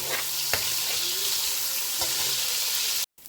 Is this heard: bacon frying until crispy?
yes